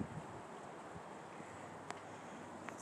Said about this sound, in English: Man, that wind is got a chill to it.